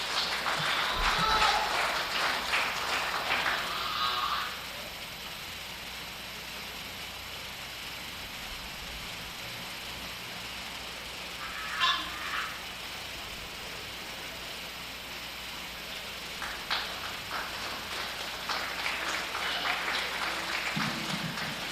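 An audience at the Jackson County Fair Windmill Classic Junior Goat Show applauds the young exhibitors. Clapping comes in distinct bursts, a strong round at the start, a brief flurry midway and another swell near the end, with quieter stretches between.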